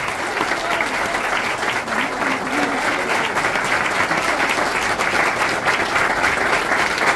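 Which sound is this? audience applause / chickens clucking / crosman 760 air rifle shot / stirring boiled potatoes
audience applause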